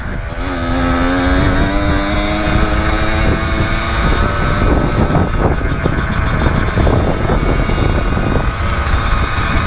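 A Kawasaki KX85 pit bike engine revs loud and close, its pitch rising and holding in a buzzing two-stroke whine, then breaking into rougher, choppier throttle bursts.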